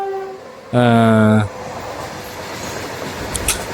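A train at a railway level crossing sounds a short, loud horn blast, followed by a steady low rumble of rolling wheels and faint clanks.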